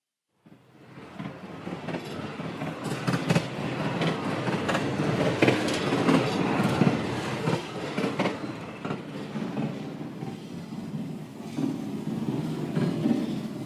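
A subway train rides along with a steady rumbling roar and rhythmic wheel clatter, fairly close and continuous, with no voices over it.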